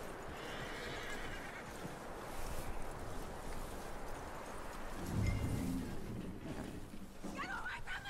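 A horse whinnies in the video game Red Dead Redemption 2, over a busy background of ambient rumble and clatter, with faint voices mixed in.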